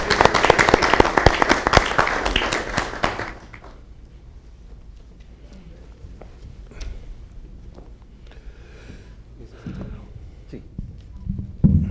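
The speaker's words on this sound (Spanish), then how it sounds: "Manuel, vamos a recibirlo con aplausos" A crowd bursts into loud applause for about three seconds, then it dies away into quiet room noise with scattered movement and faint voices.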